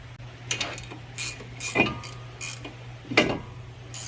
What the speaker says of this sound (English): Sometimes I'll put a large nut as a spacer, and I'll drive the lug nut in.